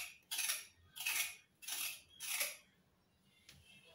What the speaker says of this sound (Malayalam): അപ്പോൾ ഇനി നമുക്ക് ക്യാരറ്റ് അരിഞ്ഞെടുക്കാം